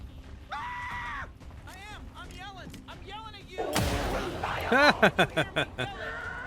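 Gunfire in the video game XCOM 2, played with a Long War 40k mod, arrives as a burst of loud shots layered over game music and synthetic effects, closing with a rapid run of several sharp reports.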